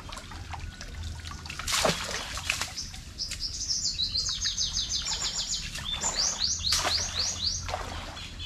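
Birds chirp in repeated quick, bright trills over a soft outdoor background by a river in the Philippine countryside at midday, with a few sharp rustles or flutters mixed in.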